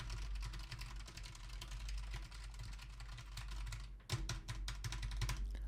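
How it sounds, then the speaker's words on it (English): Loud, rapid typing on a computer keyboard close to a Rode Procaster microphone, a dense run of sharp clicking keystrokes over a low hum, breaking off briefly before a final burst of hard key hits. "I'm going to just type really loudly on the keyboard to see what it gets."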